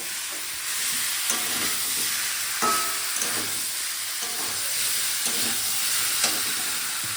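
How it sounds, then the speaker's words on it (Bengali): Spice paste for a Bengali hilsa fish curry frying in a pan while it is stirred, giving a steady, close sizzle broken by repeated scraping strokes of a spoon, with no talk. "আমাদের মশলা কষানো হয়ে গেছে এবার দিয়ে দেবো পরিমাণ মতো জল"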